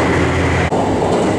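The Hamakaze diesel limited express climbs a mountain pass with a dense, steady roar of engine and rolling wheels. The sound stays loud and close, with only a momentary dip partway through the short burst.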